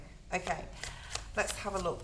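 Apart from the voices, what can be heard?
shuffling tarot cards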